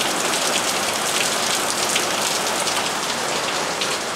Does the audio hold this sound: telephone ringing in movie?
no